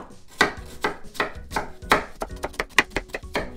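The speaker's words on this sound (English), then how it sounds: "I'm gonna make small slits" Knife making small slits in an onion on a cutting board, a quick, close series of sharp taps that speeds up toward the end, with no speech.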